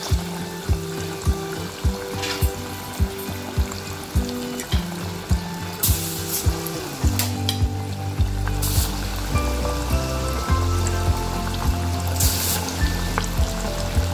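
Korean fried chicken (dakgangjeong) pieces dropped into bubbling hot oil, giving a steady close sizzle that swells in the second half, under rhythmic background music.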